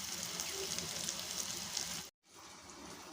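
Food frying in a pan, a constant close crackling sizzle and hiss that cuts out briefly for a moment before resuming, with no talking over it.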